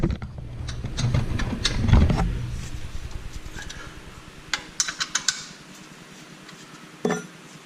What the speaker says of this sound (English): 17mm wrench should take care of it.